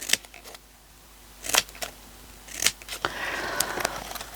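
Scissors snip through sticky foam pads for an autumn craft embellishment, giving several short, crisp cuts spaced apart, close and fairly quiet, followed by a longer rustling scrape near the end.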